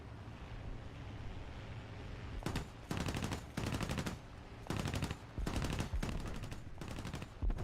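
Rapid automatic gunfire from an ADATS air-defense vehicle in War Thunder rattles out in a string of short, sharp bursts with brief gaps between them, loud and close over a low engine rumble.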